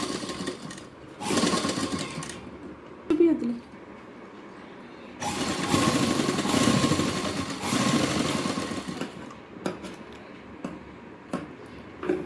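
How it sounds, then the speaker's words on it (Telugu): Sewing machine stitching the four sides of a homemade cloth handkerchief, running in bursts of fast mechanical whirring that start and stop, with a quieter room between runs. "చూడండి ఇలా ఫోర్ సైడ్స్ కుట్టేశాను"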